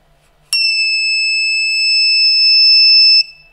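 Homemade spy alarm buzzer sounding as its battery circuit closes: a single loud, steady high-pitched electronic tone that starts abruptly, holds for under three seconds and cuts off, with no talk.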